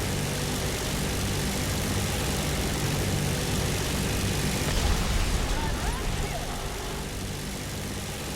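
A propeller aircraft engine in the War Thunder combat game drones loud and unbroken, a dense roar with slight swells throughout, and a voice talks over it.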